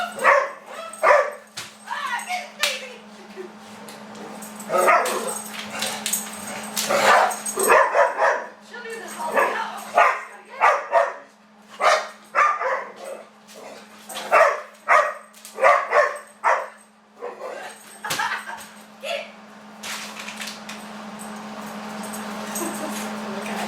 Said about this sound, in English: if I can stand it with all the barking going on